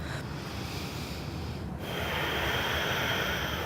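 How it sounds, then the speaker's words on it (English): Exaggerated yoga breathing in and out through the nose, a long continuous airy rush that strengthens partway through, close and steady without talk. "really exaggerate that sound in and out through your nose"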